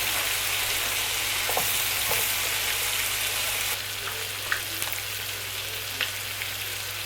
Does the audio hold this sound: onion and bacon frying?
yes